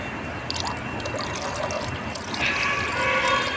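Water pours steadily into a bowl set out for birds, a continuous splashing trickle that grows slightly fuller and brighter toward the end, close and alone.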